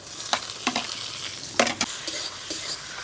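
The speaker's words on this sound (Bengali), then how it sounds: "এবারে দিয়ে দেবো টমেটো কুচি।" Chopped tomato goes into onion frying in oil for a mutton curry, giving a few sharp sizzling bursts and stirring scrapes over a quiet background.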